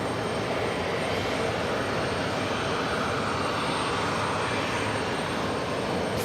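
Emirates flight 690 on runway 4 left at JFK airport, a steady broadband engine roar that holds loud and unbroken throughout, with no voices.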